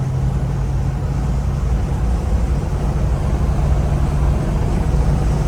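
A 1979 Ford Bronco engine drones steadily from inside the cab while driving in traffic, a low constant hum with road rumble and no talking.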